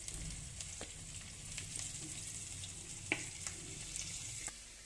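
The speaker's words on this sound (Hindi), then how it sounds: "अब हम इसमें अपने लहसुन का डाल दे रहे हैं।" Garlic fries in oil in a pan for a potato and eggplant dish, giving a soft, steady sizzle with occasional small pops and stirring clicks, faint and close without talking.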